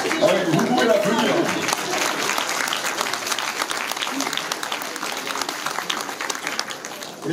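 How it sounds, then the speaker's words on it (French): Attendees at a mayor's New Year address in a French town hall break into applause, dense clapping that starts strong and gradually thins while remaining steady, with some crowd murmur underneath. "Ah oui, vous pouvez l'applaudir."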